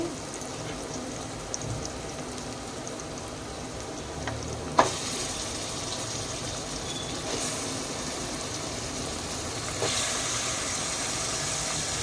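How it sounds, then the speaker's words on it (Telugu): Mutton pieces fry in a pan over well-browned onions for a mutton and potato curry, a steady, dense sizzle running throughout with occasional louder pops and a brief knock of a utensil. "ఆనియన్స్ బాగా ఫ్రై అయిపోయి ఇది మనం ముందుగా కడిగి పెట్టుకున్న మటన్ వేసుకోవాలి"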